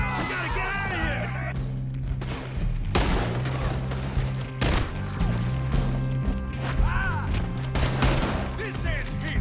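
Gunfire from a Red Dead Redemption 2 shootout: repeated loud gunshot cracks and volleys scattered through the scene, with sharp impacts over music and intermittent voices.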